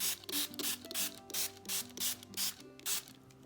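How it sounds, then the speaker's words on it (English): A spray bottle hisses in short, sharp bursts, about eight in a steady rhythm, close up, over faint background music. "we can use our water sprayer and go ahead and spray these a bit"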